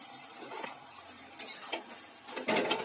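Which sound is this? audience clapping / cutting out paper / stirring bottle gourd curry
stirring bottle gourd curry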